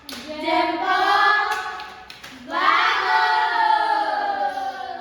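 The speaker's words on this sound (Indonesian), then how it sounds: "Coba tepuk jempol." Schoolchildren in a classroom chant a thumb-clap rhyme in unison, their voices rising and falling in a steady rhythm with light clapping woven through, pausing briefly before a second louder burst of chanting.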